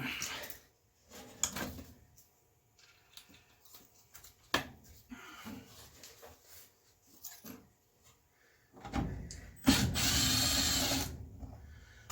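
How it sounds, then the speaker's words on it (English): Screws are removed from a Maytag machine to reach its blower motor, with scattered metallic clicks, ratcheting and clunks of tools and panels, plus a louder rattling burst near the end; a person talks at times. "So I think if we pop these couple screws off here, we should be able to get to that."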